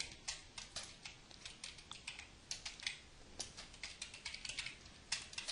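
Typing on a computer keyboard, entering C# code. Quick, irregular bursts of close, crisp key clicks run throughout with no talking.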